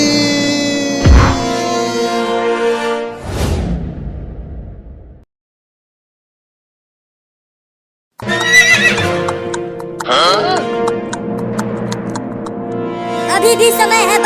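A horse whinnies loudly and its hooves clip-clop in a comedic rural race against a tempo vehicle, with sharp neighs and hoofbeats at the start, a few seconds of silence, then busy bursts of hoof and horse noise.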